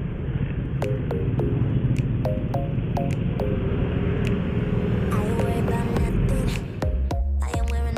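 Congested street traffic of cars, motorbikes and large and small vehicles heard from a motorcycle on a potholed road, a steady close engine rumble with sharp intermittent clicks and knocks.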